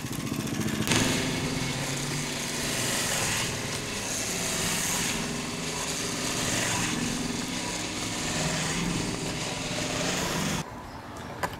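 Swardman reel mower cutting tall grass, its small engine droning steadily at close range for about ten seconds before cutting out abruptly near the end.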